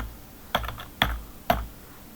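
Three sharp, evenly spaced clicks of computer keyboard keys being pressed, close and distinct against a quiet background.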